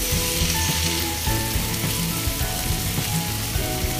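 Chicken and vegetables fry in a pan with a dense, constant sizzle and crackling spatter, loud and close with no talking.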